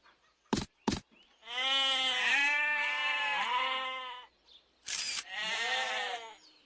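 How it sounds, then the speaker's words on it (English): Sheep bleating in a children's animal-learning game: two sharp clicks, then a long wavering bleat, a brief click, and a second shorter bleat, close and loud. "Sheep."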